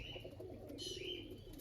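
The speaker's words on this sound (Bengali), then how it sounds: "ইম্পোর্টেড লাইনের টেডি পায়রা" Imported teddy pigeons cooing softly in a loft, a faint low coo with a brief higher chirp amid quiet background noise.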